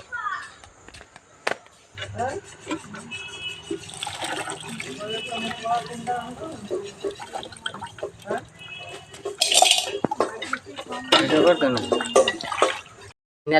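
Oranges are washed in water in a village setting, with splashing, sloshing and trickling close by and a few clattering handling sounds, all mixed under steady talking.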